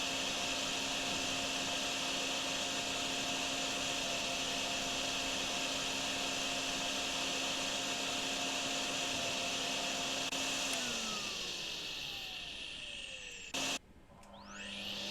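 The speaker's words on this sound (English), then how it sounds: "Let's put the vacuum underneath whatever the hell this is to get the water over there." A vacuum sucks up flood water with a loud, steady whirring drone that drops in pitch and cuts out near the end, followed by a brief clatter.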